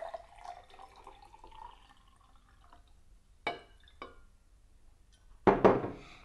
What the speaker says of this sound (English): now I'm going to take my jug of water and pour the water into the glass like this.